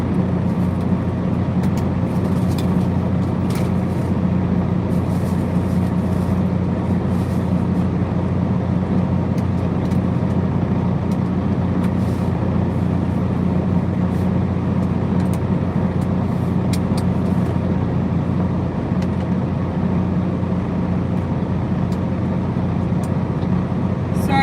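A truck runs steadily in place, giving a constant low engine rumble that fills the clip from start to end with almost no talk.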